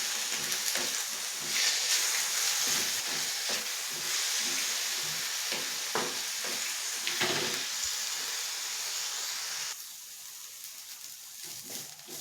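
Peanuts and spices dry-roasting in a pan for thecha: a steady bright sizzling hiss with scattered scraping stirs, dropping to a quieter texture near the end.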